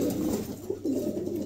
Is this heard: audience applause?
no